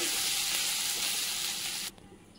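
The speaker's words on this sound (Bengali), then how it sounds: "তারপর এর মধ্যেই একটু আদা বাটা দিয়ে একটু নেড়ে চেড়ে নেবো" Ginger paste stirred in hot oil in a pan gives a loud, steady sizzle that cuts off abruptly just before the end, leaving a faint hiss.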